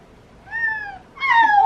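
A nervous pet cat gives two drawn-out meows with a short pause between them, close and fairly loud, in a quiet indoor room.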